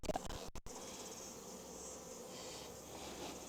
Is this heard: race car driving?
no